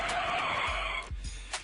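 Car brakes skid in a long tire screech, loud and sustained, followed by a couple of brief squeal bursts as the vehicle stops.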